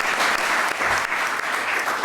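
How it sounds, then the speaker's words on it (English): An audience at the Chesapeake Executive Council annual meeting claps for a presenter, a short burst of steady applause from a roomful of people, fairly loud and close. "Give Nick another great round of applause"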